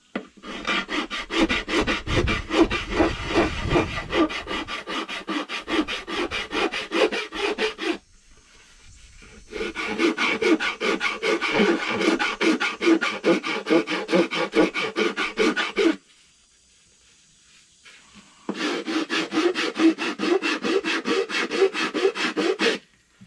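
Hand rasp filing wood on a homemade gourd banjo, worked with hand tools: three long bursts of dense, rhythmic rasping strokes separated by short pauses, loud and close with no talking.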